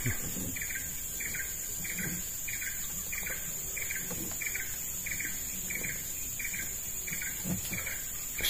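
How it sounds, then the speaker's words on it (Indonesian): Birds call beside the Lamandau river, a regular series of short, high repeated notes at moderate distance over a steady insect-like hiss and faint outdoor ambience. "Suara ini tuh suara burung kan?"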